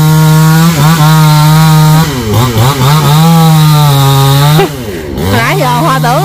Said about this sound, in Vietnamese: Ồ, cưa hạ gốc luôn hả?